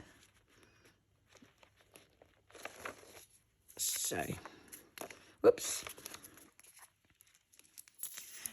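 Paper torn by hand for a journal tuck spot, a few short ripping and crinkling bursts close up, with a brief spoken word in between.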